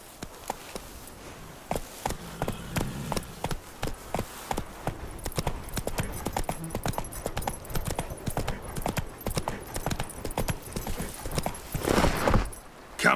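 The horse Roach gallops in The Witcher 3 with rapid, rhythmic hoofbeats pounding continuously, then a brief whooshing gust near the end.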